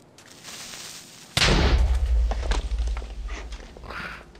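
An exploding creeper in a Minecraft video game bursts out suddenly as one loud blast partway through, following a quieter stretch, then rumbles and crackles away while faint game sounds continue.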